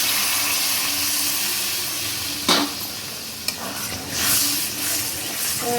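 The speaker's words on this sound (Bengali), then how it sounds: "আমি এবার এর মধ্যে জল অ্যাড করব।" Warm water is poured into a fried spice masala for chhana dal, a close steady hiss and sizzle with a sharp clink partway through and a brief gurgle afterward, no speech.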